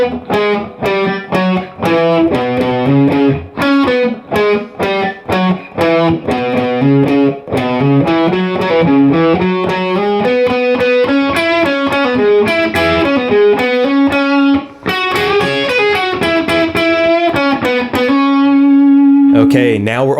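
Distorted electric guitar plays the first three lines of a solo, a fast run of bending, sliding lead notes with heavy effects that ends on a long sustained note, loud and alone.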